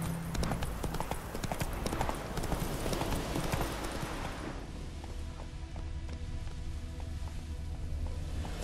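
Hooves of Roach, a horse in The Witcher 3 video game, clip-clop in a steady trotting rhythm throughout, loud and close, softening slightly midway as ambient wind and a low hum continue underneath.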